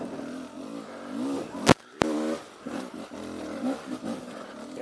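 A dual sport motorcycle accelerates in second gear along a wooded trail with roots and a fallen log, its engine revving up and down in rising, wavering pitch, broken by two sharp knocks midway.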